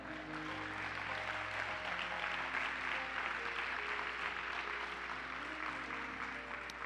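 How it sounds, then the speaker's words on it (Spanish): Church congregation applauding the Lord during a sermon: a steady wash of many hands clapping for about seven seconds, with sustained musical tones beneath. "Dale un aplauso al Señor."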